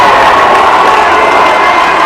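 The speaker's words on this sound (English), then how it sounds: "Crowd not happy about that one." Loud, dense volleyball crowd noise in a school gym during a USN versus BGA match, a sustained roar of shouting and reacting spectators that stays steady and close throughout, with no clear break.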